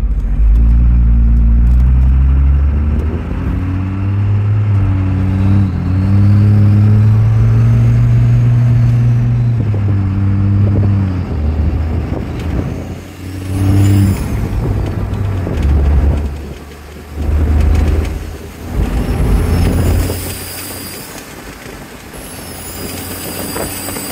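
A second-generation Dodge Ram Cummins diesel pickup with a swapped Allison six-speed transmission drives along, its deep engine drone loud and steady at first, then rising and falling as the throttle changes, with no talk.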